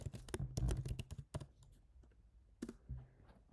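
Typing on a computer keyboard while entering a browser console command, a fast burst of close, crisp key clicks followed by a pause and a few more scattered taps.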